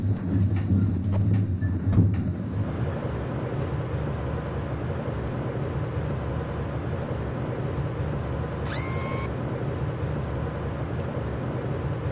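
A train rolls along Hesperia Railways in Splinter Cell: Pandora Tomorrow, a loud, continuous rumble of rail wheels with a steady mechanical drone and a brief high squeal near the end, with no voices.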